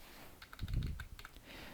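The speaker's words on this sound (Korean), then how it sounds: "제목을 입력하도록 하겠습니다" Quick typing of a PowerPoint slide title on a computer keyboard, a brief cluster of soft, close key taps at an uneven rhythm, faint and alone.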